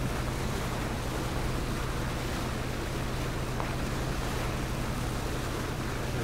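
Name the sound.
boat on water in the video game PUBG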